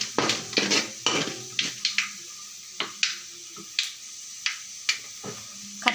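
Cashews added to a cooking pan and stirred while making South Indian pudina rice: repeated clear clicks and scrapes of a spoon against the pan, heard alone with a faint sizzle underneath.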